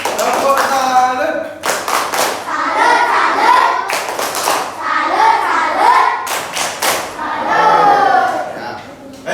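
Bursts of applause from a classroom of students, several short rounds of hand clapping separated by a teacher's voice talking between them.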